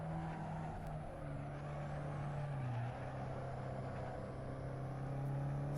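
A small car's engine drones steadily at relatively low revs during a race in Assetto Corsa, a sustained hum with a slight pitch dip midway, faint and unbroken, no talking.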